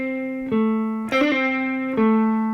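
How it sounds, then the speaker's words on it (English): Electric guitar lick with hammer-ons and pull-offs played too quickly, giving an uneven, rushed rhythm; a few clear sustained notes with quick ornamental bursts between them, played alone with a slightly effected tone. "If you find that you're doing the hammer-ons and pull-offs quicker, it'll sound like this."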